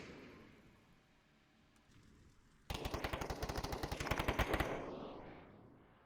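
Gunfire in the VR shooter Onward during a competitive match: a sudden loud, rapid automatic burst of about twenty evenly spaced shots, close and sharp, fading into a trailing echo, with no talk over it.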